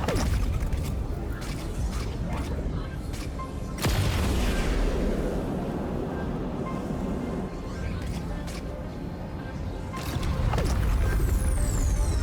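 Heavy cannon booms in the game Honkai Star Rail, with sharp blasts near four and ten seconds over a loud rumbling, mechanical bed of battle sound effects, full and close.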